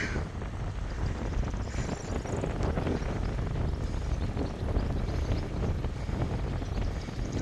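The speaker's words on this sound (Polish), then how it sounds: "I pięknie wiaterek wieje, przewiewa przez nogi, włosy, uszy i co się tylko chce." Wind rushing past while riding downhill, a continuous loud buffeting roar on the microphone that stays dense and unbroken throughout, with no talk over it.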